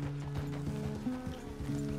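Horse hooves clip-clop steadily in Red Dead Redemption 2 while a rider gets the horse moving, the close rhythmic hoofbeats riding on a sustained low hum and a tonal drone.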